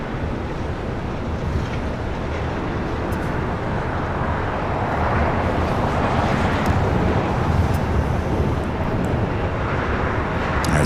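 A Japan Airlines jet at LAX bound for Osaka produces a continuous broad rumbling roar of jet engines, steady and fairly loud throughout, swelling slightly toward the end.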